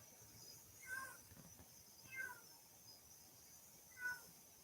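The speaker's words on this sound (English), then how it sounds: "That sounds like somebody else's cat" A cat meows outdoors near a porch at night, three separate faint, plaintive calls spaced a second or two apart over quiet background hiss.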